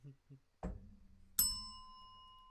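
A bell rung as a cue in a tavern drinking game gives one bright, ringing ding that sustains and slowly fades, following a short voice and a thump.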